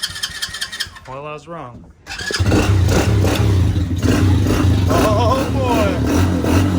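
A new automatic ATV engine cranks briefly, then catches and fires up into a loud, steady running roar with revving, heard close by while someone speaks over it.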